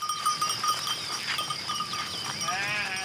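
A flock of 80 ewes being herded to a new hillside pasture: a continuous outdoor mix of shuffling animals, faint bleats and distant bell tones, with voices partly mixed in.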